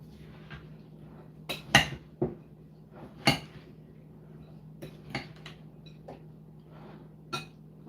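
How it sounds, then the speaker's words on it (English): A utensil stirs through a mixing bowl of apple and pear, producing scattered clinks and scrapes at irregular intervals over a quiet low hum, close and fairly soft. "And now we stir."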